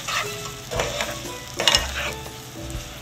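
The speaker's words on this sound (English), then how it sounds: "we begin the saute process and let the bananas get caramelized" Bananas sautéing and caramelizing in a hot pan give a close, lively sizzle broken by a few sharp stirring scrapes over a few seconds.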